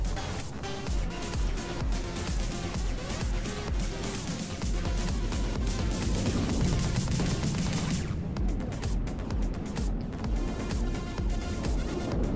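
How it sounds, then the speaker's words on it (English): In the naval combat game From the Depths, a missile volley lands in a dense, continuous barrage of explosions and rapid gunfire-like cracks, loud and unbroken throughout, with a brief thinning of the din partway through. "here comes another missile volley"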